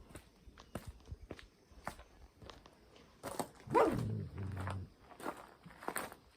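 A guard dog at a dog house in Hawaii gives a few short barks and yips amid shuffling footsteps and rustling, with one louder bark in the middle, fairly close.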